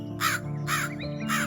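A black crow in a Gujarati cartoon moral story gives three harsh, evenly spaced caws, loud and close, over a steady musical backing.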